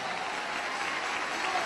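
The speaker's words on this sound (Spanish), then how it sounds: "Dele ese aplauso a Jesús, hermano" A church congregation applauds in a steady, dense wash of clapping that fills the space evenly for a brief stretch, with no pauses or standout claps.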